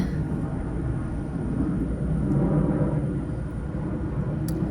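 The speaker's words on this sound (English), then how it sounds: "Oh, it's an airplane." An airplane passes overhead above a garden in May, a steady, distant, low rumbling drone that swells slightly and then fades, heard alone without talking.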